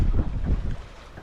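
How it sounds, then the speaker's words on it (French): A sailboat under sail off the Bijagós islands of Guinea-Bissau, with steady wind buffeting the microphone and a low rush of water along the hull, loudest at first and easing slightly. "On est bien, Tintin, on fait de la voile."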